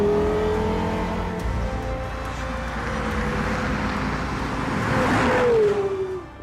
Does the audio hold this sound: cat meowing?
no